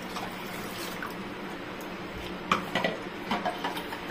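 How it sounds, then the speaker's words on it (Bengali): Water poured into a saucepan of aam panna mixture, a soft continuous trickle with a few light metallic clinks and splashes of pot and utensil near the end, close and fairly quiet. "জল দিয়ে দিচ্ছি।"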